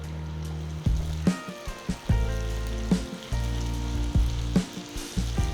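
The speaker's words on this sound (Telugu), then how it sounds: "ఒక్కసారి నూనె వేడైన తర్వాత చేసి పెట్టుకున్న బటూరాని నెమ్మదిగా వేసుకోవాలి" Bhatura dough slipped into hot oil in a kadai sizzles and fries steadily for several seconds, the crackle running under background music.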